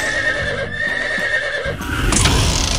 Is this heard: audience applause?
no